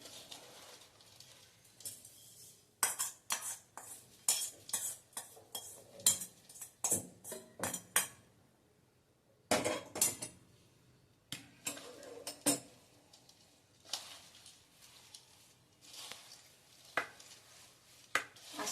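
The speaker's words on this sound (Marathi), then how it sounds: "असं हे व्यवस्थित सगळं कालवून घ्यायचंय" Poha being mixed with hot tempering in a kadhai for traditional Konkani dadpe pohe: irregular clinks, taps and scrapes in quick bursts, some louder, with a short quiet gap midway.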